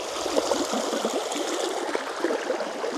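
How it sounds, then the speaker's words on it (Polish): A small, clear stream trickles and gurgles steadily close by, a bright continuous babble of water with no voices. "ale fajna woda. Czyściutka. Tak. Potoczek taki."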